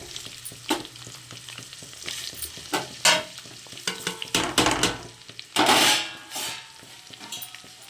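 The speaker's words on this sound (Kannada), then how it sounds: "ಸ್ವಲ್ಪ ಹುರ್ಕೊಂಡು ಮಾಡೋಣ ಚೆನ್ನಾಗಿರುತ್ತೆ ಹುರ್ಕೊಂಡು" Garlic and green chilies frying in a pan for avarekalu soppu saru, a crackling sizzle broken by repeated scrapes and clatters of stirring, some loud bursts near the middle and end.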